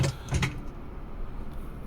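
In Microsoft Flight Simulator 2020, the cockpit door of a Carenado Cessna 182 RG II opens with a quick clunk and rattle at the start, followed by quiet, steady ambience.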